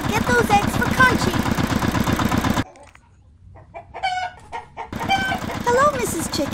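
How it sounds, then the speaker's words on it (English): A cartoon hen clucks loudly in a rapid, buzzing run of clucks that breaks off into a quieter stretch of light sounds before the loud clucking starts again. "Hello, Mrs. Chicken"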